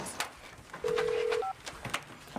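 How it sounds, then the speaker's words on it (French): A single electronic phone ring tone, one steady beep of about half a second followed by a brief higher chirp, over a quiet room background. "Deuxième sonnerie."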